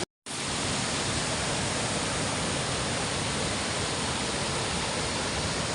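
Water from a brimming rainwater-harvesting dam in the hills rushes steadily and loudly close by, a dense unbroken roar that sets in after a brief silent start and holds for the rest.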